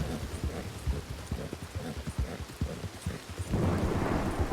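Thunderstorm in Red Dead Redemption 2, with rumbling thunder and rain blending with rhythmic horse hoof clip-clops, swelling into a louder wash of rain near the end.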